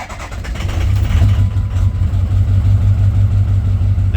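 A 2003 Ford 6.0 Powerstroke diesel with a misfire catches and settles into a steady, loud, close-up idle, its deep lumpy rumble holding for several seconds.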